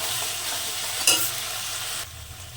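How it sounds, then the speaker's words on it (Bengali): Spice masala for chicken ghugni fries in a pan, a steady close hiss of sizzling with a brief scrape of stirring partway through before the sizzle drops lower. "আবার মশলাটাকে আমি সুন্দর করে একটু কষে নেবো"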